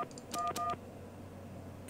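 Telephone keypad dialing tones in a video game: a few short beeps in quick succession, followed by quiet background hum.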